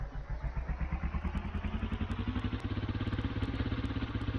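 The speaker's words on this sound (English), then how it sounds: "Getting the engine up and running" A vehicle engine runs in Minecraft, a steady, rapid mechanical putter with a regular chugging pulse that settles into an even idle, close and moderately loud.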